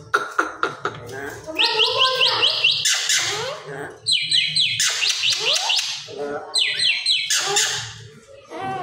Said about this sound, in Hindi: हाँ मैना, फिर से बोलो, दोबारा बोलो मैना।